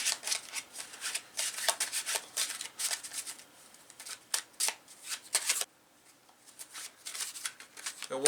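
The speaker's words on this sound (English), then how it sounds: "Give the cards a good shuffle and mix up." A deck of cards is riffled and shuffled repeatedly, crisp rapid flutters coming in bursts with a brief pause near the end.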